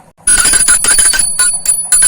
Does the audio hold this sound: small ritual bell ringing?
yes